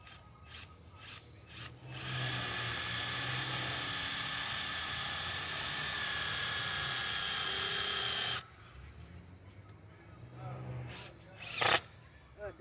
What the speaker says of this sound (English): It's been a while since I've been able to use power tools.